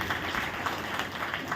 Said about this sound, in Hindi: यह ताली बजाने का नहीं है